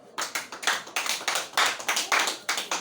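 A church congregation applauds together, with steady, brisk clapping that carries on for a few seconds at close range and fairly loud, with no talk over it.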